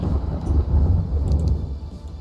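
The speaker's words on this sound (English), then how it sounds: "sulfuric rain is starting to clear" Sulfuric rain and thunder in the Terraria Calamity Mod video game: a steady, loud low rumble of thunder with rain rolling through continuously, without any speech.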